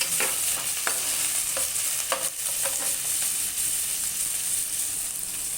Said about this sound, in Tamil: பொடியாக நறுக்கி வச்சுருந்த வெங்காயம் எல்லாம் சேர்த்து நல்லா வதக்கிக்கோங்க.